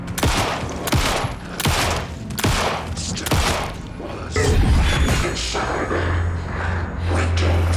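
Gunfire in the PC game Alan Wake 2 rings out as a run of loud, sharp shots at a steady pace, each a hard crack with a short tail, then gives way to a denser crashing rumble and noisy action.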